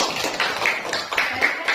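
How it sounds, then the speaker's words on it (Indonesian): Children clapping in a classroom, a rhythmic series of brisk, fairly close handclaps in a short repeated pattern, with no one talking. "Tepuk tangan."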